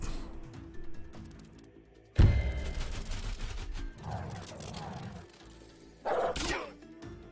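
Dogs in Wargroove snarl and attack amid layered combat effects, with sharp hits and bursts at intervals over game music.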